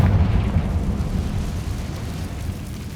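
A Confringo fire spell blasts in Hogwarts Legacy, a loud low rumbling burst that swells at once and then rolls on as a steady, dense roar for the full three seconds, with no voices over it.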